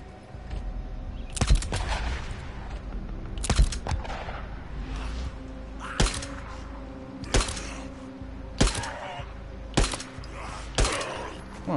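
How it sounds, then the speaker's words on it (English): Bursts of gunfire crack out at irregular intervals in the video game Days Gone, roughly every one to two seconds, over a steady low hum, with no talking. "I'm hearing gunfire."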